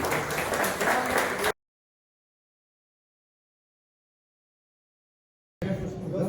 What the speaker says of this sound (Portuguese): Se você puder aplaudir o Senhor por essa palavra, eu agradeço